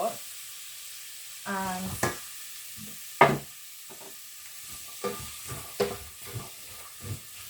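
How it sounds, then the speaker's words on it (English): Vegetables hit hot oil in a pan for spaghetti bolognese with a steady sizzle and hiss, broken by a few clanks and scrapes of stirring. "Great sizzling noise, so you know the oil's hot."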